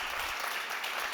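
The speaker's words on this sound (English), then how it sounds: "Big round of applause to Choi." Applause at a startup competition for digital and tech solutions, a brief, steady wash of clapping from the audience, fairly quiet and continuous throughout.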